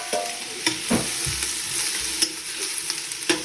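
Onions sizzle steadily in a hot pan in a home kitchen while a utensil stirs them, scraping and clinking now and then over the constant frying hiss; no one speaks.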